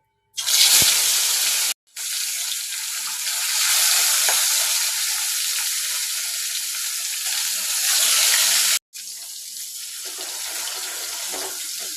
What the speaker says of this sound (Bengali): তো এবার মাছগুলো ভেজে নেবে এক এক করে।